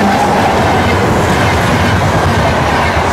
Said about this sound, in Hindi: फिलहाल देखिए इधर ट्रेन जाती हुई।